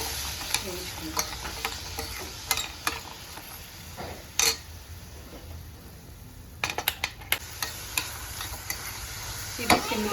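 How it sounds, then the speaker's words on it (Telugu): Almonds and cashews fry slowly on low heat in a pan, giving a soft continuous sizzle broken by frequent clicks and scrapes of a spoon stirring against the metal. "ఇవి సిమ్లో పెట్టుకుని వేగుతూ ఉంటాయి"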